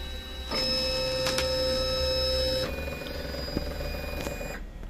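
A vinyl cutter cutting a logo for a T-shirt print hums and whirs steadily close by, its motor tone shifting midway, with a couple of faint clicks and no voices.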